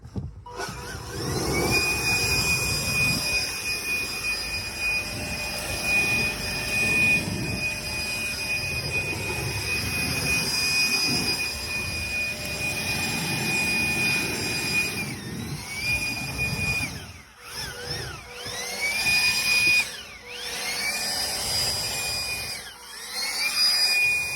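Ryobi 40V battery-powered electric leaf blower running steadily for a long stretch at close range, a loud continuous airy whine and rush with a high tonal note, dipping briefly near the end, with no talking.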